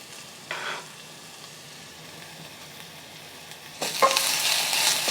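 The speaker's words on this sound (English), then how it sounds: "I'm going to saute this for about 2 to 3 minutes until the onions are softened and translucent" Onions sautéing in a pan give a quiet continuous sizzle, with a short burst of stirring early on and a louder, brighter sizzle flaring up near the end as garlic goes in.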